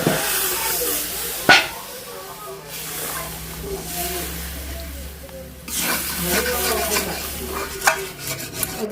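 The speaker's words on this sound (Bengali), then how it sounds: "এই যে এখন জলটা ঢেলে দেবো।" Water poured into a hot pan of snail curry, a gushing hiss with broad sizzling and stirring, one sharp clatter early, moderately loud and close with no talk.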